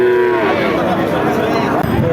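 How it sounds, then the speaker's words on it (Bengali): At the Chougachha cattle market a cow standing with her calf lets out a drawn-out low moo at the start. Market chatter and a nearby voice carry on underneath. "সামনে একটা দেখতে পাচ্ছেন বাছুর সহ গাভী।"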